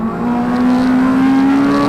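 Honda Civic Cup race car at Snetterton circuit, engine howling loudly as it passes close on track, a steady rising tone over broad roar.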